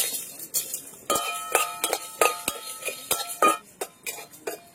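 Dried chillies, coriander, whole garam masala, pepper and cumin stirred in a pan, with a spoon clinking and scraping against the metal in irregular taps over a low bed of frying.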